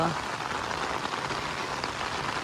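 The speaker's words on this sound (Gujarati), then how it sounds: "વાવાઝોડા સાથે મતલબ વિંડી સાથે વરસાદ પડે છે" Windy rain falls steadily as a dense, continuous wash of drops spattering on surfaces, loud and unbroken with no pauses.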